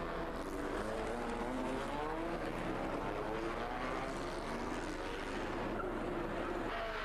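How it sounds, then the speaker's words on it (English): Pre-1966 Grand Prix racing cars, including a Cooper Maserati, droning steadily around the Monaco street circuit at a historic race, a continuous moderately distant engine roar with no break. "'21 is the Cooper Maserati of Richard Hope."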